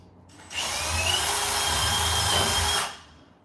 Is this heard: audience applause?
no